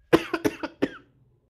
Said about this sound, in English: Sorry about all the coughing tonight.